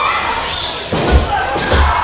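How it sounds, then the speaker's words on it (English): A wrestler pounds the ring canvas in frustration during a live wrestling show. Heavy thuds land against the steady murmur of a crowd, and an announcer's voice talks over it. "T-Gainz beating away at the canvas here in frustration."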